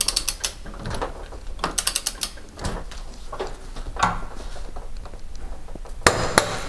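A torque wrench ratchets in quick clicking bursts while tightening a propshaft fork nut to 135 newton meters on an L20 truck, with several separate runs of clicks and occasional sharper metallic knocks.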